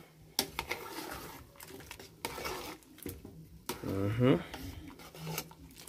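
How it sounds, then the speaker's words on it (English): Utensil stirring a pot of Jamaican red peas soup with sweet potato: scraping and clinking against the pot in short irregular strokes, close but fairly quiet, with faint background sounds. "So we're gonna give this a stir."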